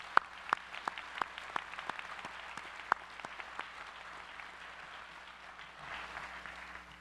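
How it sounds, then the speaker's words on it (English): An audience claps through an investiture ceremony for a judge, a scattering of sharp individual claps over soft continuous applause that thins out toward the end, heard from some distance in a hall. "Let's give these folks a round of applause"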